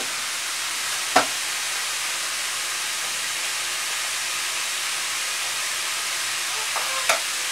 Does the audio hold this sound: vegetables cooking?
yes